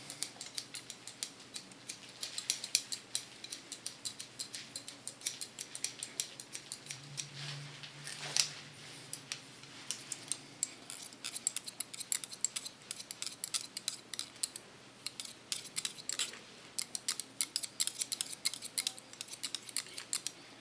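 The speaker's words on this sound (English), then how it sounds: "you hear the sound of your scissor and your comb" Quiet, rapid snipping of scissors through hair, with light crisp clicks repeating irregularly and faint combing, close and soft with no talking.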